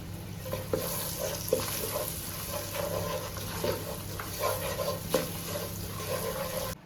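Turmeric and spices for paneer masala are stirred in a pan, with a soft steady sizzle and faint repeated scrapes close by, quiet and without talk.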